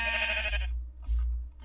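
A sheep bleats once, loud and near, inside a blocky survival video game on a farm, with a faint second bleat following after a short gap.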